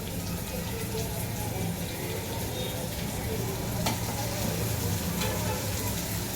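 Masala and chopped tomato fry in a pan, giving a steady, close sizzle with stirring scrapes throughout and a few sharper clicks, with no talk over it.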